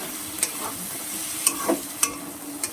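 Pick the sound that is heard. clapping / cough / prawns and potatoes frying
prawns and potatoes frying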